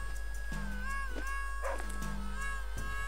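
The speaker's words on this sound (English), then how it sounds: "Yes, dog." A dog in The Flame in the Flood gives two short, close barks about a second and a half apart, with whimpering yips between them over a steady low background hum.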